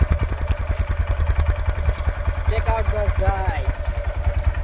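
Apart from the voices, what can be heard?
Royal Enfield Bullet motorcycle engine starting and idling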